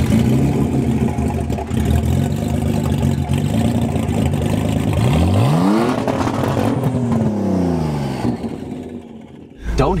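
A vintage Porsche 934 race car, the 1983 Sebring 12 Hours winner, cranks and fires into a loud, steady mid-pitched idle, then blips through rising and falling revs close by before cutting out near the end.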